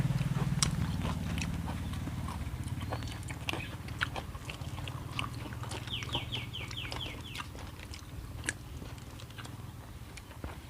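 Crunchy bites and chewing of pickled garlic eaten alongside a spicy Isan-style shrimp salad with wild greens, close and repeated through the clip, with faint clucking chickens in the background.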